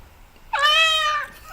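A single cat meow sound effect, a clear, close, rising-then-falling cry lasting under a second against near silence.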